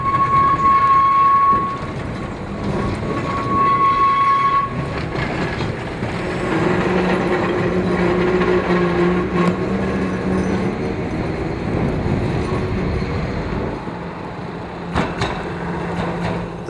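A 1935 closed-top double-deck vintage tram runs along Lytham Road in Blackpool toward the promenade, a steady loud rolling rumble with a tonal whine and occasional clicks and clatter of the wheels on rail.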